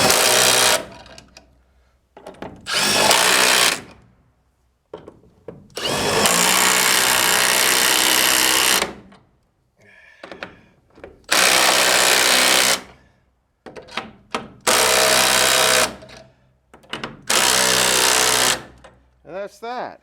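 An impact power tool with an extra-long deep socket drives bolts on a sawmill, giving several loud whirring bursts of a few seconds each, separated by quieter pauses with handling noise.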